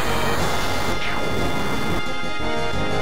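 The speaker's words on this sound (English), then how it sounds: "That was the sound of the enemies dying off screen." Enemies die off screen in Final Fantasy VII after Cloud's Finishing Touch limit break, heard as a loud, dense, roaring wash of noise that fills the whole stretch without letting up.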